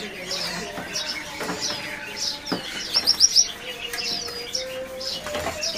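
Songbirds chirp and tweet in cages at a bird market kiosk, including flycatchers and shrikes, with overlapping calls, a flurry of sharp chirps in the middle, and background voices and market noise.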